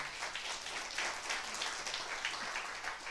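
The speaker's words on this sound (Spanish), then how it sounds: "ese aplauso es para Jesucristo, amén" A church congregation applauds during a sermon, a dense, sustained wash of many hands clapping together at close range with no pauses.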